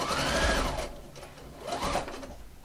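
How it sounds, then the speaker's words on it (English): A sewing machine runs a straight stitch along a garment seam, a continuous close whirring hum that rises and dips slightly in speed, with no talk. "I'm just going to do a straight stitch all the way down, just using this seam as a guide"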